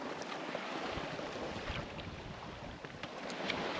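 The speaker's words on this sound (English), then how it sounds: "we're sailing with a very light wind behind us towards Cape Jackson and the Cook Strait" Sailboat running with very light wind behind it toward Cape Jackson and Cook Strait near the Marlborough Sounds, a steady broad wash of water along the hull mixed with soft wind buffeting the microphone, fairly faint and continuous.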